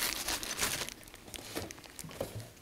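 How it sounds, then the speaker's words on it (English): A plastic bag from a milling machine DRO kit box is torn and opened, with bursts of crinkling and rustling close by, irregular and without talk. "there's also another bag over here underneath. I'll go ahead and open that up."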